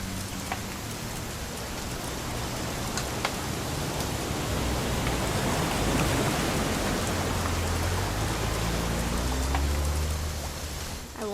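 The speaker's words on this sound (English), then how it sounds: "It's gonna rain the whole weekend, isn't it?" Steady rain falls continuously in the video game What Remains of Edith Finch during a weekend hunting trip, a dense, even hiss of drops with faint low rumbles underneath, sustained throughout.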